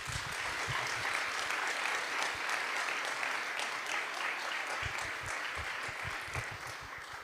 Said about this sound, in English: I take this as an applause to the Ukrainian nation